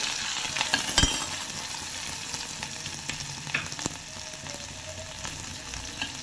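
Onions and curry leaves fry with salt in a pan for a mango relish, giving a busy, continuous sizzle crackling throughout, with sharp utensil scrapes and clinks as the mixture is stirred close by.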